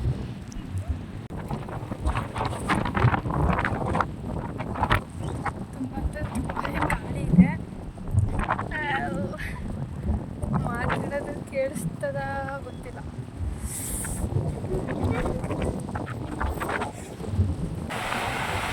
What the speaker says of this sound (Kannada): ಫುಲ್ ಗಾಳಿ ಗಾಳಿ ಗಾಳಿ ಗಾಳಿ ಗಾಳಿ